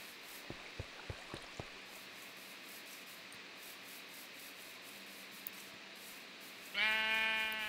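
Sheep bleating in the video game Minecraft, a harmonic bleat rising loud near the end after a few soft clicks over a quiet ambient hum.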